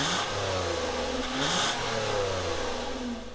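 The 3.5-liter V6 of a 2013 Toyota Avalon XLE revs up and down in a couple of smooth, rising and falling sweeps, heard steadily and fairly close with no talk.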